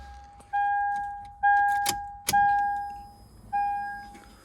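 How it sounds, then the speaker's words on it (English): Fuel pump on a turbocharged Lexus IS300 with an ECM bypass, running as a steady tonal whine that drops out and resumes in several bursts, with a couple of sharp clicks or clunks in between. "You can hear the fuel pump running."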